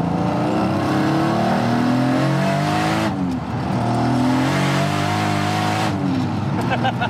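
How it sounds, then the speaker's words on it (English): A 900-horsepower Barra-engined street car cruises at light throttle, its steady engine drone carrying faint gearbox whine and differential noise, with gear-change dips partway through. "little bit of gearbox noise, a little bit of diff noise, it's all pretty normal"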